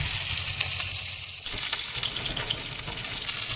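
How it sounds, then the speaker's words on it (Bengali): Bhola fish frying in hot oil, a dense, loud, continuous hiss and crackle that briefly dips and then surges back louder, with no talk. "ওকে, আমাদের ভোলা মাছ ভাজা হচ্ছে"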